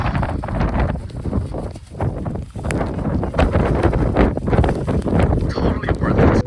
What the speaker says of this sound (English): The wind is still so strong up here